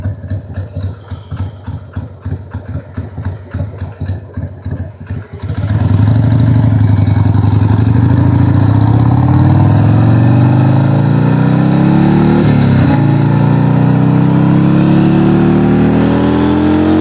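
Harley-Davidson Sportster 883 motorcycle idling at a red light late at night, a loud, steady, close rumbling idle that swells into a continuous low throb after a choppier opening, with no talk.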